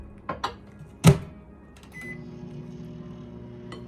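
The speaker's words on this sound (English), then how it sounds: "let's get this in the microwave real quick" A microwave oven melting butter: a few clicks and a sharp beep at the start, then the low steady hum of the oven running, close by and without speech.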